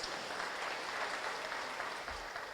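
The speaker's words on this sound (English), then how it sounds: "Why are they clapping?" Quiet, even audience clapping at a computer architecture conference before an invited talk on sustainability, a soft steady patter heard from a distance with no voices over it.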